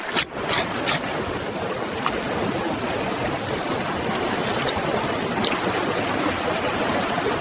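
A cold river current rushes steadily while an octopus is rinsed at the bank, a constant loud wash of water with a few sharper splashes near the start.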